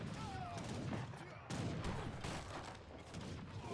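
In the video game Age of Empires III, a town center fires on units with rapid, crackling volleys of musket-like gunfire, faint and layered over busy battle noise.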